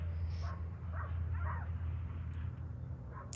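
Dogs bark and yip in short, muffled bursts at a distance, partly buried under a steady low rumble from nearby construction.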